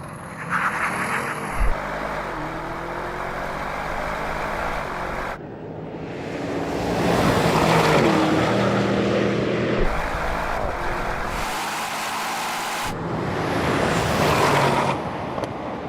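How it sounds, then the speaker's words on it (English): A BMW M5, Audi RS6 and AMG GT drag race with wind-buffeted roaring that swells and fades in several passes. Engine noise is heavily masked by wind rumble on the microphone. "I've already drag raced the M5 against the RS6 and an AMG GT, and this happened"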